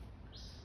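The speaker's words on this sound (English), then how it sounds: "I wonder if there's any birds living in that house. I can definitely hear them." Small birds chirp near a birdhouse beside a creek outdoors in North Carolina, a short run of quick, high tweets over a faint steady background.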